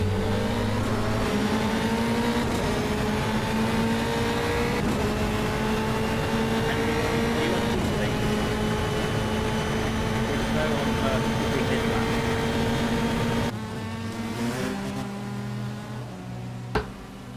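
Formula 3 race car engines scream continuously at Circuit Gilles Villeneuve, loud sustained high revs with shifting pitch, then fading as cars pass and a lower idle remains, with a voice talking over the noise.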